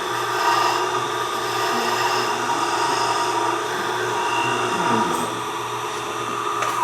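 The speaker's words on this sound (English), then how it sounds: "It's a shear cut, absolutely on the bevel." A ball gouge taking a shear cut, riding on the bevel across wood spinning on a lathe: a steady whirring hum with a continuous rough scraping hiss, close and unbroken, no talking.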